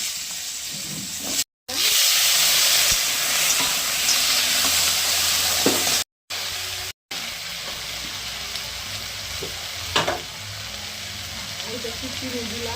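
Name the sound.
lentil dumplings (bori) frying in oil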